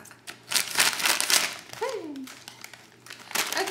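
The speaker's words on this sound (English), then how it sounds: "I'm trying so hard to open it. Let me just stop and get some scissors." A plastic snack bag crinkles and crackles loudly in close-up as it is handled and cut open with scissors, with a brief voice sounding partway through.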